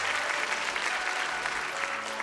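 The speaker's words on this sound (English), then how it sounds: "I hear applause and flower petals began to fall." Applause from a crowd in the Cupid Parasite video game: dense, continuous clapping at an even level throughout, with no voices over it.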